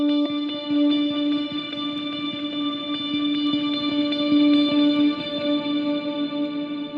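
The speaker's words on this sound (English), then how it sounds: "This is basically just a lot of reverb and a lot of delay." Sustained electric guitar notes, from lightly plucked strings, bloom and hang in a wash of heavy reverb, shimmer and echoing delay, with a steady shimmering tone and no voices; a part from a worship song.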